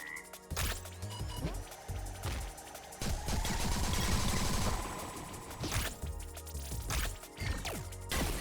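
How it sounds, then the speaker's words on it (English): Plasma gun firing in the action roguelite Chivalware, set in a swamp: repeated crackling blasts and smashing impacts with a sustained buzzing discharge in the middle, fairly quiet overall. "I don't know if this plasma gun is worth the effort"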